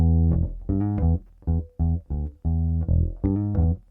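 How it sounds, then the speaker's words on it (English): Dry electric bass guitar without the Bull Sub Machine effect, playing a riff of about eight separate plucked notes in a steady, choppy rhythm, with each note ringing full and loud and clean, with no voices. "So I've got the bass without the bull submachine."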